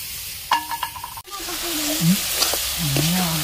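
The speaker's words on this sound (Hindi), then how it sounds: "चिंगुड़ी भजा पकाओ" Prawns sizzle steadily in a hot pan in a village kitchen as a utensil stirs and scrapes them, the frying close and continuous while voices talk nearby.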